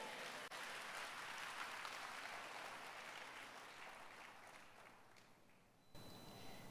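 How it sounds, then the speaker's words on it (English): A church congregation claps hands together for the Lord, a dense, sustained roomful of applause that fades gradually before stopping abruptly. "You can clap your hands for the Lord if you can."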